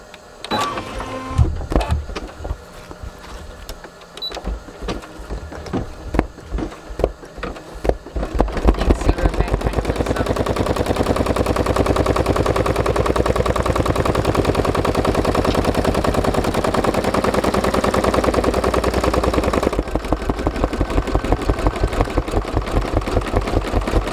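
A Brother PE770 embroidery machine stitching a design onto a thick backpack: scattered clicks and setup noises give way to a fast, steady mechanical needle chatter that runs loud and continuous, with a brief dip near the end.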